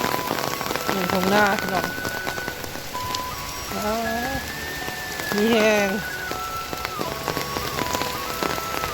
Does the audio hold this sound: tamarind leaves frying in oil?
no